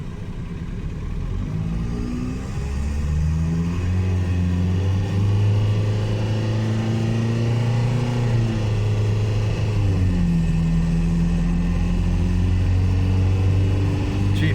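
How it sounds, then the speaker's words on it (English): A Toyota with a swapped 1.9L VW TDI diesel engine and automatic transmission accelerates at full throttle on the road, its steady diesel drone rising in pitch through smooth gear shifts, loud and continuous from inside the car. "just going to give you a full throttle run here and show you what it looks like accelerating"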